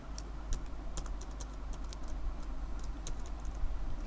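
Typing on a computer keyboard during graphic design work, a steady run of crisp, close key clicks and taps over a low background hum, with no voices.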